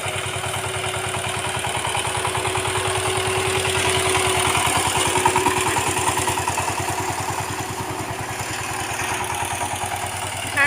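The continuous, rhythmic chugging of a tractor threshing harvested rice paddy, with mechanical clatter over a low, even engine pulse that swells slightly midway and holds steady, with no one speaking.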